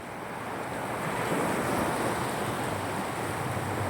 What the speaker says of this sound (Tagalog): Ang dagat na di napapagod, di tumitigil sa pag-alon.